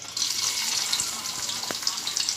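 Chopped garlic fries in hot oil, giving a bright, dense, continuous sizzle heard up close, with a couple of faint clicks.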